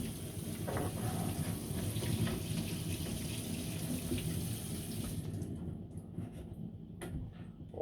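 Tap water runs steadily while a chopper knife and a Naniwa 1000 grit sharpening stone are rinsed under it, a continuous splashing wash that cuts off abruptly near the end, leaving a quieter tail with a few faint knocks.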